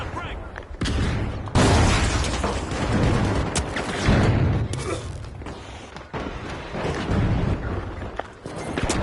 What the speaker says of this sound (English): Sending a frag.